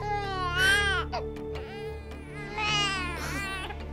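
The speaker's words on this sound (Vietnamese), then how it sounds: "Rõ ràng là có tiếng em bé sơ sinh." A newborn baby wails loudly indoors in two long rising and falling cries with a short breathy pause between them, close and prominent over a low steady background hum.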